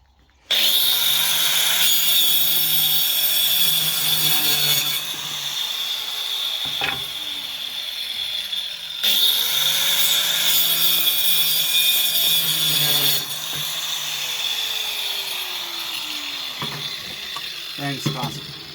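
A grinder cuts through wood to make planks, a loud sustained whine held for several seconds at a time in two long passes, with short pauses and light knocks between them.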